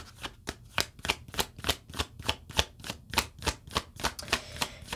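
Tarot cards being shuffled by hand make a steady run of sharp, crisp riffling snaps, roughly three per second, close up and alone for about five seconds.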